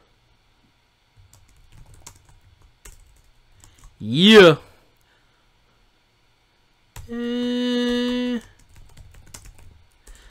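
Faint, sparse clicks of typing on a computer keyboard tap along quietly in the background. A brief spoken word and a sustained electronic tone cut in over them.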